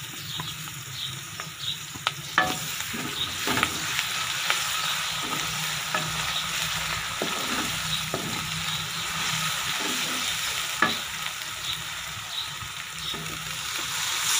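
Ginger garlic paste fries and sizzles in a pan for Punjabi rajma masala, a continuous hiss with scattered scraping stir strokes, close and steady with no talking.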